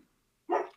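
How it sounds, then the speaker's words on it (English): A dog gives a single short, sharp bark in a quiet indoor room, clear and fairly close, with brief silence before it. "excuse the dogs there, they're doing the security business."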